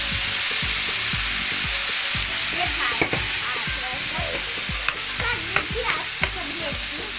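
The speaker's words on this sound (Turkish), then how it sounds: "Şimdi azıcık su ekliyorum." Meat filling for Tokat-style sarma sizzles loudly in a pan as a little water goes in, with a steady broadband hiss and repeated soft stirring scrapes, no talking.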